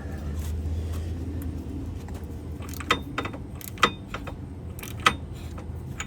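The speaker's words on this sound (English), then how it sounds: "So now what I will do is tighten it." A front CV axle nut on a Subaru Forester being tightened with the wheel off: a few sharp metallic clicks and ratchet clacks over a low background hum, spaced out irregularly.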